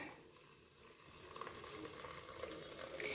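Boiled water from a kettle pours onto fava beans in a pot, a soft steady splashing and trickling that grows slightly fuller toward the end, with no speech.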